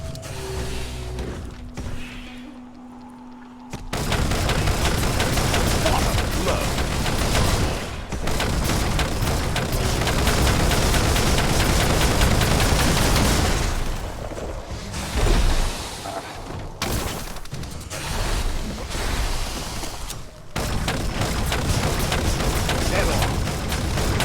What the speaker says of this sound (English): Those guns are pretty nice at this point.